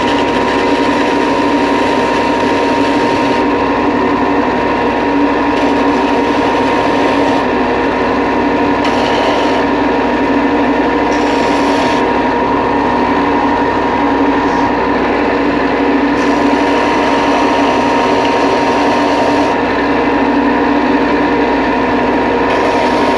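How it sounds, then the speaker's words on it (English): A belt sander smooths the edges of small wooden napkin holder pieces, making a loud, steady, continuous roar that hardly varies, with faint changes in pitch as each piece is pressed to the belt. "we're going to go over to the belt sander and sand these down just a little bit"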